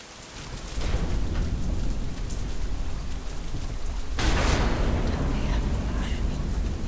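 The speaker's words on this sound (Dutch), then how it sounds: "Damn storm." Steady heavy rain pours through a storm in the video game Deadlight, joined midway by a sudden loud thunder crack that rolls on under the downpour.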